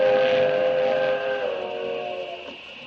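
A steam train whistle sounds as a sound effect in a radio drama, with steady layered tones holding loud for nearly three seconds and then slowly fading.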